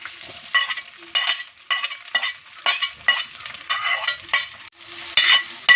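Onions sizzle in hot oil with green chillies and curry leaves for a Malayali fish curry, with repeated bursts of frying as they are stirred, close and fairly loud, no talking.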